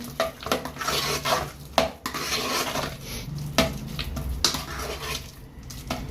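Rava dosa batter being mixed with finely chopped coriander, a spoon scraping and knocking against a steel bowl in repeated close clinks and stirring rubs, with no talking.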